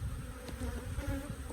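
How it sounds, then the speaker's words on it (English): Disturbed honey bees buzzing steadily around an opened hive as a storm approaches, a dense, continuous drone at close range with no talking. "Now the bees are fine, they're just nanksy because they just don't want to be disturbed right now."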